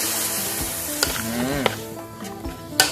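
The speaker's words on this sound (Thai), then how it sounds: "หยอดน้ำจักน้อยนะครับ" Small drops of water hit hot oil in a pan while cooking a spicy Thai fried fish with chilli sauce, giving a steady close crackling sizzle with a few sharp pops and spits.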